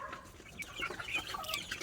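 Chickens clucking close by, a series of short, bright calls scattered over a faint background; no talking.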